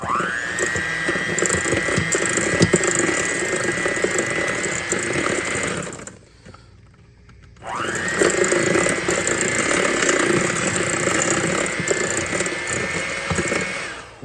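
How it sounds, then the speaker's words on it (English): Loud, steady whirring of an electric hand mixer beating peach cobbler batter, running close for several seconds, stopping briefly, then starting again and running on with no talk. "I'm going to keep using my hand mixer."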